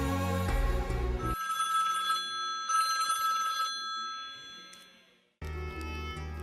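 A telephone rings with a bright electronic bell tone. Two long ringing bursts sound alone and clear, and a band of music plays before and after them.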